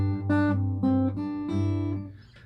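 An acoustic guitar plays the main riff of a song, with several plucked and strummed chords in an uneven rhythm that ring out close and clear, with no voice over them.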